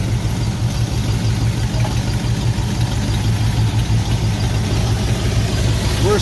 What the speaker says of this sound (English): I'll let it idle for just a second before I get started